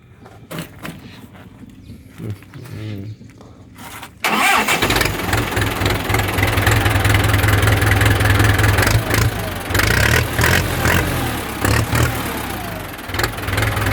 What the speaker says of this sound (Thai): เสียงเครื่อง เสียงเครื่องดีนะฮะเครื่องดูดดันเลยครับ